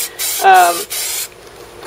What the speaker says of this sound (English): then you're going to spray a coat on there